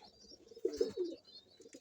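A young pigeon named One Eye cooing close by, one soft throaty coo phrase of two or three low pulses, with faint chirps in the background and no talking.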